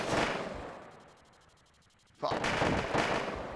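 A 12.7 mm Gatling cannon in a video game fires a rapid, evenly pulsed burst that ends in loud, heavy booming impacts nearby. A voice briefly swears.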